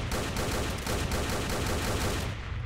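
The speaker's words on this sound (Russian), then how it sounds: "Только выстрелы, все мимо." Dense, continuous rapid gunfire with overlapping shots, loud and sustained throughout, like automatic weapons in a battle in the video game S.T.A.L.K.E.R.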